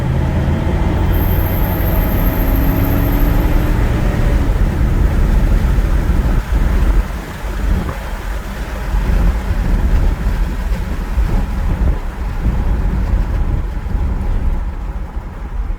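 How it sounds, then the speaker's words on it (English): A 2009 Ford F150 pickup with high mileage under hard acceleration, its engine and cooling fan producing a loud, continuous roar heard from inside the cab, holding steady with a slight dip midway. "as I floored it, I can hear a squeal on it. I hear the fan roaring like crazy"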